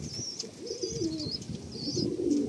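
A Jiriya female pigeon gives soft, low repeated coos at close range, with a few faint higher chirps from other birds nearby.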